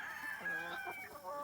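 An alpha rooster crows nearby among a flock of free-range chickens on a two-acre homestead, a long sliding call mixed with soft clucks from the hens around it.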